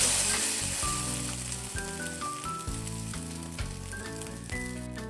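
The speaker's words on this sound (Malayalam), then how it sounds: "ഇനി നമുക്ക് ഈ മുട്ടയുടെ മിക്സിൽ ബ്രെഡ് 2 സൈഡ് നന്നായിട്ട് ഡിപ്പാവുന്ന രീതിയിൽ ആക്കി കൊടുത്ത് നമുക്ക് പാനിലേക്ക് വെക്കാം" Egg-dipped bread sizzles steadily in a hot pan, a continuous loud frying hiss with small crackles throughout.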